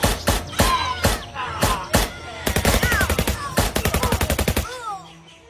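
Loud, close gunfire in a Filipino audio drama, shooting at enemies hiding in a cornfield. Several spaced single shots are followed by rapid automatic bursts that stop abruptly.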